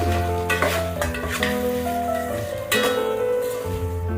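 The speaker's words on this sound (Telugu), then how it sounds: "అల్లం వెల్లుల్లి పేస్టు వేసుకొని బాగా వేయించుకోవాలి మనం ఉడికించుకున్న పనస ముక్కలు వేసుకోవాలి" Ginger garlic paste and cooked jackfruit pieces fry in a pan for jackfruit biryani, giving a loud, close sizzle with scraping stirs and clinks over a steady hiss, no speech.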